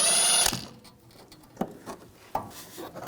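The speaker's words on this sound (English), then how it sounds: "Use a 16mm socket. Take these out." A ratchet with a 16mm socket works loose the rear shock mount bolts on a 2011-2018 Volkswagen Jetta, a few clicking bursts close by after a loud initial whir, no talking.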